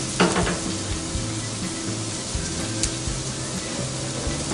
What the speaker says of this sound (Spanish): Echamos el pimiento verde y la zanahoria.